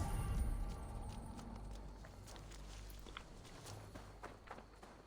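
Horse hooves clopping in Assassin's Creed Valhalla, a steady soft rhythmic trot under a dense, rumbling game ambience with low wind and background noise.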